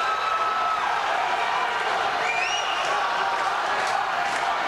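A crowd at a high school wrestling dual meet roars and cheers from both sides of the gym, a dense, continuous wall of voices with a few shouts rising above it.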